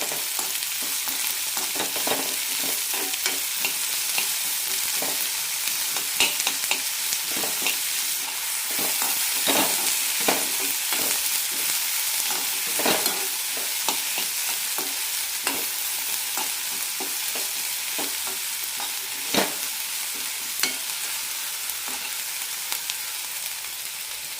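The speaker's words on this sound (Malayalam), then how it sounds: "സവാള ഇത്രയും വഴന്നാൽ മതി" Onions sauté in a pan for an onion chutney, giving a continuous hissing sizzle with frequent scrapes and taps of a spoon stirring them, close and without speech.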